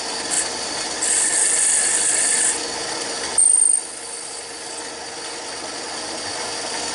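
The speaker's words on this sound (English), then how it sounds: "Use a little 600 to get that burr off. And sand a little bit." Steady rubbing rasp of 600-grit sandpaper on a spinning wooden tenon for a penguin ornament, close and even, with a brief louder burst midway and then a softer hiss.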